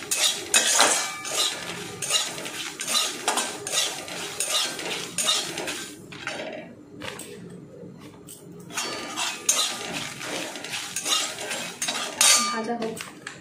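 Whole garlic cloves fry in a pan as a metal utensil stirs and scrapes, giving repeated clinks and scratches over a faint sizzle, close and fairly quiet.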